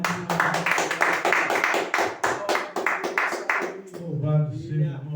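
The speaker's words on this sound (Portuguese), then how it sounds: "E as palmas louvam o Senhor mais" Church congregation claps hands in praise, several seconds of loud rhythmic claps, then a voice takes over as the clapping stops.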